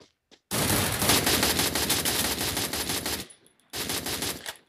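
Sustained automatic gunfire in the Free Fire battle royale game, a loud dense burst of rapid shots lasting several seconds, a short gap, then another burst.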